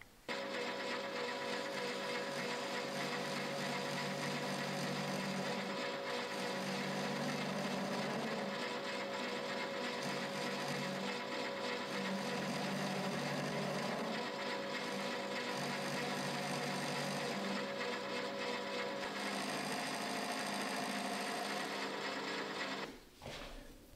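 A lathe trims the end of a small machined tool, a steady continuous mechanical whir and rubbing rasp of cutting running close and loud for over twenty seconds, stopping abruptly at the end.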